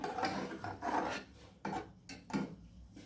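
Rhythmic scraping and rubbing strokes as a thick rice and moong dal mixture with a little water is stirred in a pot, several close, gritty passes with short pauses between.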